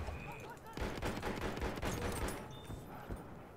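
Dense bursts of gunfire from Battlefield 1 team deathmatch, shotgun blasts mixed with rapid shots, loud and close for most of the stretch, easing slightly toward the end, with a faint voice underneath.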